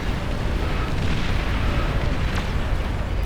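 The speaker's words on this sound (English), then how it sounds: "We see a lot of long-range cannons firing onto the shields" Long-range cannons in a large real-time strategy game pound enemy shields in a constant, dense wall of booming blasts and explosions, loud and unbroken throughout, with no talk.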